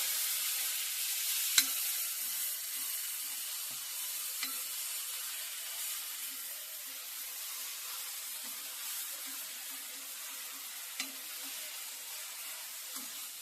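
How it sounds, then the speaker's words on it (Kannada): Green chili paste sizzling in hot oil in a pan, a steady soft frying hiss with occasional light stirring clicks, fairly quiet and continuous with no one talking. "ಇವಾಗ ಇದು ಎಣ್ಣೆಲೆ ಬಾಡಿಸ್ಬೇಕು"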